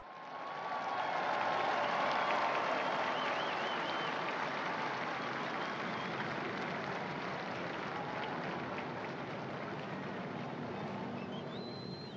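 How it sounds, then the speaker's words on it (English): A large outdoor crowd in St. Peter's Square applauds and cheers in welcome as the Pope arrives, a broad, steady wash of clapping that swells early and holds at a constant roar throughout, with scattered shouts carried on the open air. "the crowds as they applaud and welcome the Holy Father"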